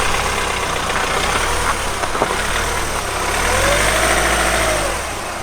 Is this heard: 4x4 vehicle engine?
yes